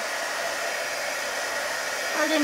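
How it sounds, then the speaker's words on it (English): A steady, close whoosh of a heat gun blowing hot air, continuous and fairly loud, swelling slightly toward the end. "so I'm just going to take my little heat gun"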